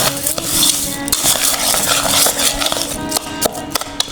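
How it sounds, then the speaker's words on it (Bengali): A spoon stirs four eggs in a bowl for a parboiled-rice egg pudding, making a loud, continuous clatter of clinks and scrapes against the bowl with no voices. "আমি এখন এটা ভালো করে মিক্স করে নেব, চামচ দিয়ে ভালো করে এটা মিক্স করে নেব।"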